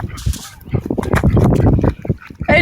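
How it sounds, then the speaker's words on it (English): Ducks on the water honk and quack in a noisy cluster of short, overlapping calls, close and fairly loud. "There's some duckies."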